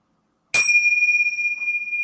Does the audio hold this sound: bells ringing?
yes